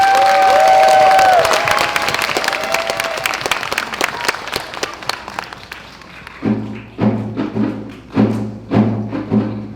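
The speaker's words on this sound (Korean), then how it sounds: "큰 박수로 맞이해주세요." Audience applause greets a sixth-grade shadow-play performance at a school winter recital. Dense, loud clapping fills the first few seconds and gradually thins, then gives way to a series of evenly spaced low thumps, like a drum beat.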